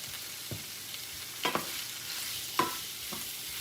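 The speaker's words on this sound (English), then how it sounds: "in that same skillet, I want to sear my sausage" Sliced sausage sears in a skillet with a soft steady sizzle, broken by a few sharp scraping stirs and clinks against the pan, with no one speaking.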